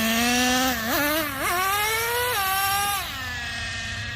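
A Traxxas Nitro Revo 3.3 RC truck's nitro engine runs on 30% VP Racing fuel, a loud, close, high-pitched whine that blips up in pitch several times before settling into a steady idle-like drone.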